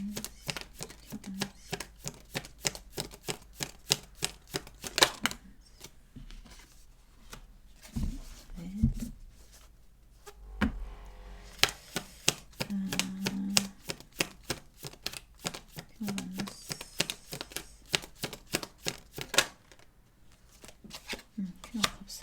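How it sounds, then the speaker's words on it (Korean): Tarot cards are shuffled and drawn in long runs of rapid, close flicking riffles, with brief pauses and a voice speaking at times. "제가 보조 카드 잠깐만 뽑을게요"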